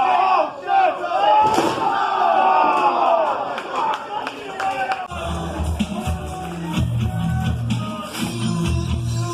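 Crowd at a live wrestling show yelling and roaring, with loud slams and sharp thuds punctuating the noise, then a rumbling stretch of shouts and impacts heard from within the audience.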